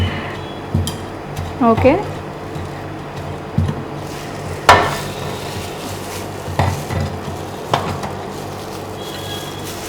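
Rolled ice cream ingredients being mixed on a cold plate, with scattered scraping and clinking of metal spatulas at an uneven rhythm, close by, while a person speaks briefly.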